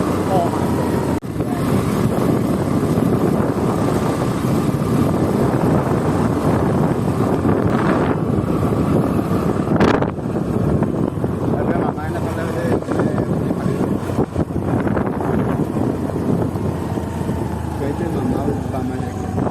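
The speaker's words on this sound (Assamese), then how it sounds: "এয়া চব নিমাতী ঘাটৰ পৰিৱেশ এয়া নাও" A boat runs at the Nimati Ghat river crossing toward Majuli. Its loud, steady engine drone is buffeted by heavy wind noise throughout, with faint voices in the background.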